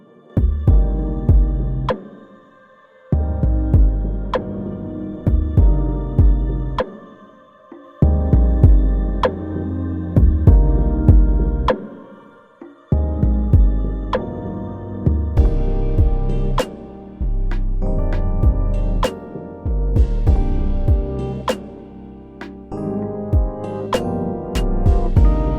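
A punchy kick drum locked with a deep 808 bass in an EQ-balanced hip-hop mix, repeating thumps in a steady rhythm with brief drop-out gaps, loud and upfront with no voices.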